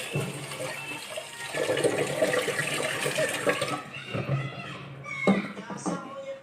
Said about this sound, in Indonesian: Air yang di wadah ini akan kita siram ke tanaman.